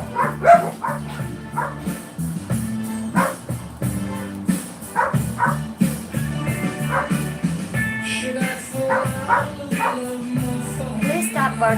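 A dog barks and yips repeatedly in short bursts, fairly close, with some whimpering between barks over a soft musical background.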